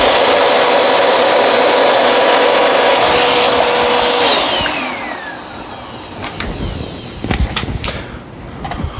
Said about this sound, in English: Let's make sure to get the vacuum forward.